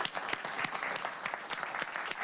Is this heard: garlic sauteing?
no